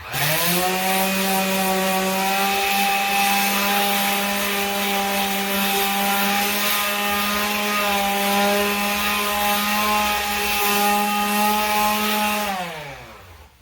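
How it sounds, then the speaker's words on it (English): A power sander works the top of a freshly trimmed laminate countertop. It gives a steady, loud motor whine that holds an even pitch for about twelve seconds, then winds down at the end. "I'm going to want to sand on the top because some of the dust got stuck and flipped over the edge"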